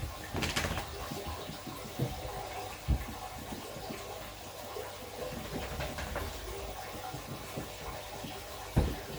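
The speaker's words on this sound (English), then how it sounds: "What I'm watching for here as the water's draining" Water drains from a Lake Malawi mbuna cichlid aquarium during a water change, giving a faint, low trickling wash with a few soft knocks and splashes scattered through it, and no talking.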